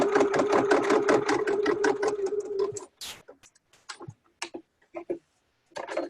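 A sewing machine stitches a seam on a summer drawstring tote bag, running in a steady, rapid mechanical rhythm for about three seconds before stopping. A few quieter clicks and handling noises follow.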